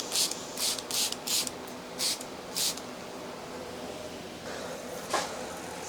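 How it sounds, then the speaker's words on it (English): A spray bottle mists a houseplant in a quick run of short sharp hissing bursts, about six close together at the start, then a few softer ones and a final spritz, near and with no talk. "I'm gonna spray it"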